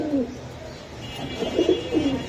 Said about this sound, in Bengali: এটা হলো 65 কিলোর বাসার কবুতর